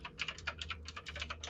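A typewriter clacking out a rapid burst of keystrokes, a dozen or so crisp strikes in quick, uneven rhythm, fairly quiet and close with no talking over it.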